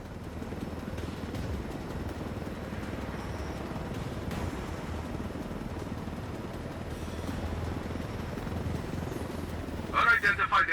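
A helicopter in the video game Ghost Recon Wildlands gives off a steady, moderately loud rotor and engine drone, with a brief burst of other noise near the end.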